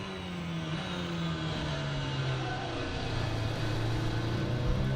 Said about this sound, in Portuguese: você não escuta o som do drone, você escuta o som do carro